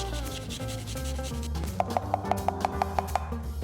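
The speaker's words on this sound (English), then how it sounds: "And we're gonna grate in garlic clove." A garlic clove is grated on a fine grater into a sesame oil sauce with red pepper flakes and vinegar, a soft rubbing rasp that becomes a regular run of about ten quick strokes, faint and close.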